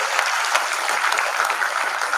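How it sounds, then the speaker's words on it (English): An audience at a university conference inaugural ceremony claps for the Vice Chancellor, dense even applause filling the room, steady and fairly loud with no clear talk over it. "Please, stand up, give a big clap."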